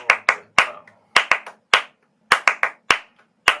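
Flamenco palmas, sharp close handclaps in an uneven accented rhythm, a dozen or so crisp claps with short gaps in between, heard alone.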